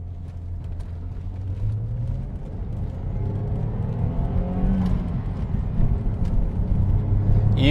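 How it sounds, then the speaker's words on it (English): A Saab car engine with a BSR intake rumbles and builds as it accelerates, its pitch rising over several seconds with a breathy intake roar and turbo whoosh on top, loud and close. "You can really hear the turbo whoosh and the intake sound with the BSR intake."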